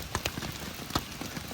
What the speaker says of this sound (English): It's a damn hailstorm.